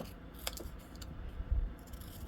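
Scissors trim the border off a paper journal card, producing a few short, soft snips and paper rustles against a quiet room background.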